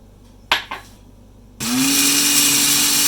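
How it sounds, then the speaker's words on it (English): A couple of light knocks, then a kitchen blender grinding pepper and coriander starts up and runs loudly and steadily with a high whirring motor. "all this in the blender."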